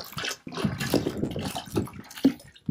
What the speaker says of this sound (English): we're just going to mix a gallon of antifreeze with a gallon of distilled water in this bucket